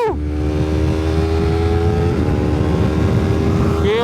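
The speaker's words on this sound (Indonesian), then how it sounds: "kalau lu ganti shifting tuh kayak ada yang meledak-meledak gitu, karena kan pengapiannya dimati ya" A Honda CBR250RR fitted with a quickshifter roars loud and close while riding. The engine holds a steady high drone, and its pitch dips briefly midway as a gear shift cuts the ignition.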